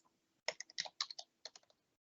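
Keys tapped on a computer keyboard, entering search keywords in a quiet library: two short bursts of quick, close, crisp clicks separated by a brief pause.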